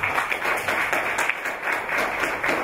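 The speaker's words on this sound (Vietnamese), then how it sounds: "Cho một tràng pháo tay đi ạ." Audience at a business seminar on startup leverage and internet income gives a round of applause: dense, even clapping from many hands, fairly close and sustained, with faint voices mixed underneath.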